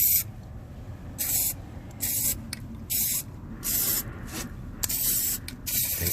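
Plasti Dip sprayed from an aerosol can onto a car rim in repeated short hissing bursts, about eight close, fairly loud spurts separated by brief pauses.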